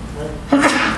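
A single sharp sneeze in a quiet indoor setting, a sudden burst of breathy noise after a moment of low murmur.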